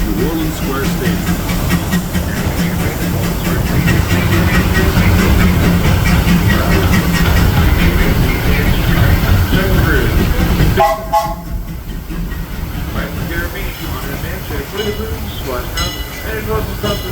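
A Disneyland Railroad train hauled by the steam locomotive E.P. Ripley rumbles loudly along the track with steady rolling noise and hiss, then the din drops as it slows, while a voice announces over it throughout.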